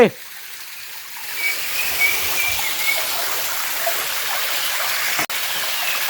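Sap Sa Kaeo waterfall at Ban Khao Phloi pours in a steady, rushing wash of falling water heard from a moderate distance, constant throughout with a few faint bird-like chirps above it.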